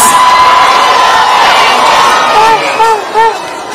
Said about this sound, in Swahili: Wapi makofi ya rais?